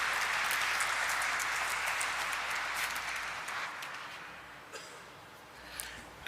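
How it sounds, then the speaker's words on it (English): Audience applause fills a stock exchange IPO listing ceremony for Five Star Business Finance, a dense steady wash of clapping that slowly thins and fades toward the end. "A nice big round of applause"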